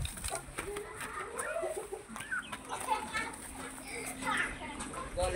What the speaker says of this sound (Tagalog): Sa manok, oh, grabe, sumiksik na doon, oh.